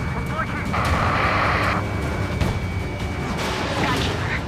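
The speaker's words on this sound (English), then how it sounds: "Missile!" Missile strike during an aerial dogfight in the Ace Combat 7: Skies Unknown video game, with roaring jet noise, a rushing launch and booming impacts under continuous radio chatter.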